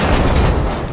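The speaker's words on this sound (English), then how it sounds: "But this blows up, and it's a progressive fire that just continues to melt the freaking forest." A fire bottle explodes in the shooter The Finals, a loud, low, rumbling burst that fills the whole second without a clear attack, suggesting a spreading blaze in a forest.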